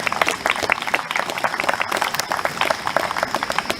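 An audience applauds at an Independence Day ceremony at George Washington's tomb, with dense, steady clapping from many hands that carries through the whole stretch without a break.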